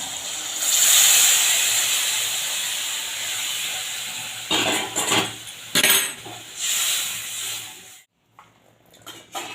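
Hot water poured into fried, oil-separated masala for a raw banana curry, a steady hissing, sizzling pour from close by, loud at first and then breaking into bursts of clattering and bubbling before fading.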